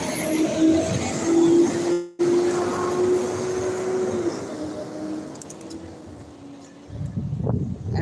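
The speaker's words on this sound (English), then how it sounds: "Now here comes this truck." A truck rumbles past at street level with a droning engine tone and hissing air brakes as it slows to turn a corner, then a low throaty surge near the end.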